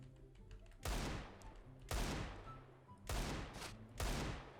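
Four loud, sharp Desert Eagle shots in the video game CS:GO, spaced roughly a second apart, each with a brief ringing tail over quiet game ambience.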